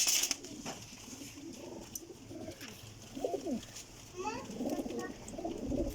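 Pigeons coo in soft, repeated low rolling calls among a loft of birds, with occasional higher chirps and brief murmured voices in the background.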